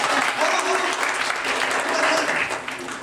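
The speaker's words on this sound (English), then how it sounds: "Round of applause for Dustin." An audience applauds loudly after a juggling act, dense continuous clapping filling the whole moment with no voices on top.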